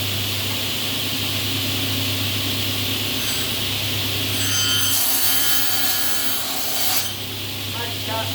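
A hand saw rasps through a wooden board with steady back-and-forth strokes, a brief high-pitched whine from a scribe appearing partway through, close up and fairly loud.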